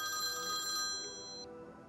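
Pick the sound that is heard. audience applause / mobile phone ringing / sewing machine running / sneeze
mobile phone ringing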